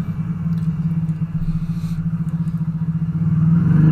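A motorcycle engine drones steadily and close in traffic, with a rhythmic pulsing rumble that climbs louder toward the end as the bike accelerates during a near miss with a car.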